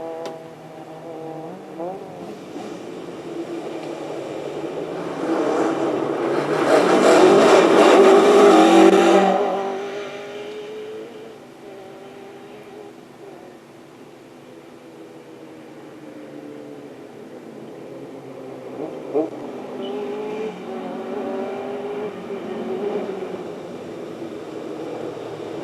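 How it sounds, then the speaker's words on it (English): A Sunbeam rally car runs its engine on a stage of the 2021 Lombard Rally at Brunton. It revs up and roars past loudly at close range, then fades to a steady distant drone before another engine builds again. "unbeam shared between Colin and Glenn Irving definitely has those engine maladies fixed"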